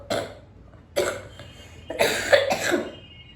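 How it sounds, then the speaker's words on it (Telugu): Four short, dry coughs from one person close by, the last two coming in quick succession after a pause. "దగ్గు వచ్చేసింది"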